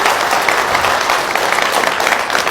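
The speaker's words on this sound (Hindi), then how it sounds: "एक बार जोरदार तालियां हमारी ऑर्गेनाइजेशन के लिए होना चाहिए।" An audience at a motivational talk bursts into loud applause for the organization, a thick, continuous wash of many hands clapping at once.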